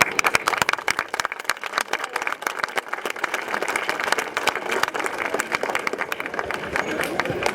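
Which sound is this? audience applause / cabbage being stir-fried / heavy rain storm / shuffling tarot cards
audience applause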